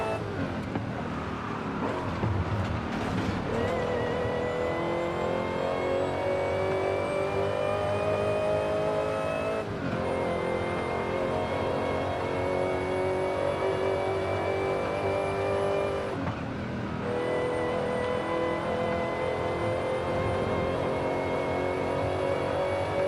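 A Ford Cobra driven in Forza Horizon 5, its engine droning loudly and continuously with rising and falling revs through gear changes, brief dips where the throttle eases, and the note climbing steadily between shifts.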